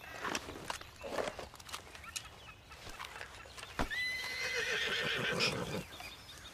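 A horse in a video game whinnies loudly with a long, shaky neigh, preceded by scattered hoof clops and footsteps, fairly close with no talk.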